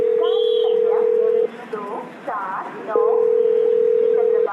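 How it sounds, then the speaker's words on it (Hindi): A steady phone ringback tone sounds, breaks off briefly, then resumes, as a call is placed while waiting for a local train at Airoli station. Muffled background ambience fills the pause. "ऐरोली स्टेशन पर लोकल का इंतजार करते हुए मैंने माधव को फोन लगाया।"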